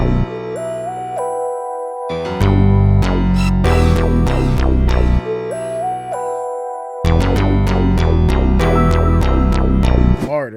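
West coast beat from a Legacy Kit sample featuring the Rubber BS2 bass preset, loud deep bass notes under plucked melodic hits and percussion, a short melody line repeating twice.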